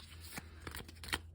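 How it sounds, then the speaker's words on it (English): Oracle cards being shuffled by hand, a quiet series of soft riffling bursts and card flicks, several short strokes in a row with the last one slightly louder, close up and with no talking. "Do a few more shuffles."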